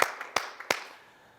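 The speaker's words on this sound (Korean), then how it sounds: "우리 하나님께 영광의 박수 올리겠습니다." Several sharp, sparse claps ring out in a church during a Korean worship service, a handful of distinct hits in the first second fading into a quiet room.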